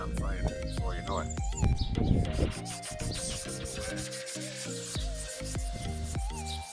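A motorbike part is sanded and polished by hand to take out ridges and bring back its shine. The rubbing sounds are close, rhythmic and scratchy, with short repeated strokes and no talk over them.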